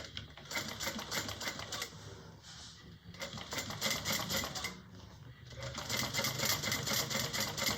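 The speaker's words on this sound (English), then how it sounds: "I'm going to begin top stitching" Sewing machine top stitching a bag handle, a steady rapid mechanical chatter in two long runs with a short pause between, close and fairly loud.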